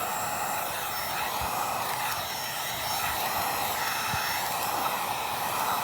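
A heat gun blows with a constant, loud, airy whoosh as it warms vinyl wrap film on the corners of a car, the steady hiss running unbroken throughout.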